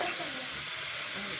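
Tomatoes sautéing in a hot pan give a steady, close hiss of frying with faint stirring scrapes, continuous throughout and without talk.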